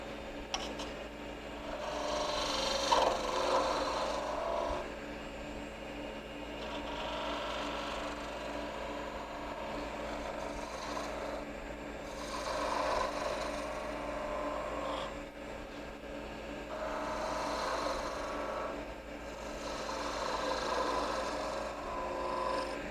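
A skew chisel takes a light cut on wood spinning in a lathe, giving a steady, fairly close rasping hiss that swells and eases in long strokes over a low motor hum.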